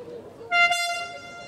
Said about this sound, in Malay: Air horn juga sudah dibunyikan.